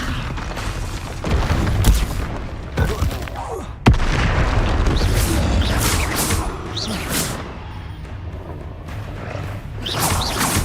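A Confringo blasting spell explodes in Hogwarts Legacy, a loud booming blast among a dense, sustained run of game combat effects with whooshes and crashes, one sharp hit standing out near the middle.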